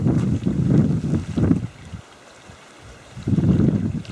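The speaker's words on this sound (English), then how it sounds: "Nice and windy, everything's drying very fast." Wind gusts over a lake, loud rumbling buffets against the microphone that swell, drop away to near quiet in the middle, then return strongly.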